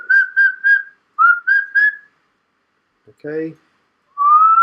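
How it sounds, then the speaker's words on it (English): Close into a microphone, a person whistles two sets of three short, piercing notes. A brief spoken word follows, then one long rising whistle. "us whistling annoyingly into the microphone"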